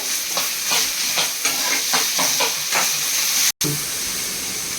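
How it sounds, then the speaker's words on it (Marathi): Garlic, ginger and tomatoes roasting in a pan for Kolhapuri misal, with a close hissing sizzle and repeated scraping stir strokes, then a brief dropout before the steady frying resumes, no talking. "आणि त्यातच मी आता 2 टोमॅटो ऍड करते, तेही आपल्याला छान नरम होईपर्यंत भाजून घ्यायचे"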